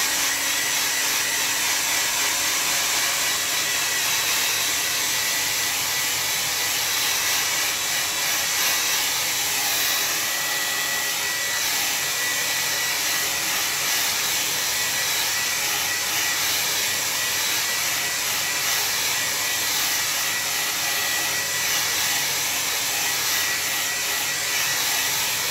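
A hair dryer blows steadily on a watercolor barn painting, a loud, close, unbroken hiss and whir that holds at one level throughout.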